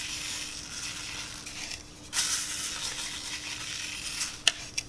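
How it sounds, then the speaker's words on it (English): Coarse salt scooped and poured generously over wet glue for a craft painting, a steady granular hiss with a denser rush midway and a couple of sharp taps near the end. "I like to scoop it and just kind of pour it all over the glue."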